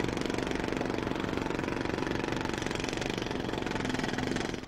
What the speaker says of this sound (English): Loud machinery or tools.